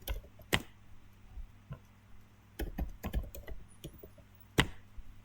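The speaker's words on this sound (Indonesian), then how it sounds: "lalu kita akan mengetik juga" Keys on a computer keyboard are typed in short, uneven clusters of quiet clicks with pauses between, close by in an otherwise quiet room, with no talking.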